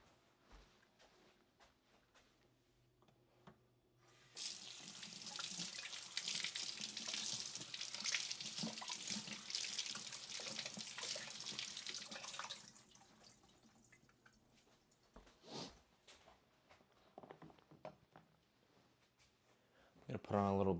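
A kitchen tap runs steadily for several seconds while food is rinsed under it during preparation of a Malaysian meal, then shuts off, leaving faint drips and handling sounds, with a voice speaking softly at times.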